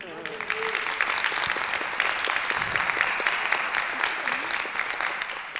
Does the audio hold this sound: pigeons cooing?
no